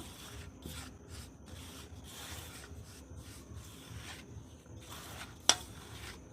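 Hands working paratha dough with sugar and white oil in a bowl, a soft, quiet rubbing and squishing in repeated strokes, with one sharp click near the end.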